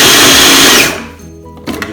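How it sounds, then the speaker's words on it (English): A stick blender whirs loudly and steadily through a batch of garlic purée with oil, then cuts off, leaving a quiet pause and a short clatter at the end. "blitz it down with a stick blender"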